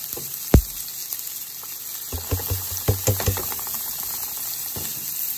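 Peppers, onion, garlic and scallion sautéing in bacon grease for black beans, a steady close sizzle with a few clinks and stirring knocks, no talk.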